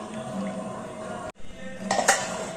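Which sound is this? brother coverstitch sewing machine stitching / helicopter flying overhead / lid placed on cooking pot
lid placed on cooking pot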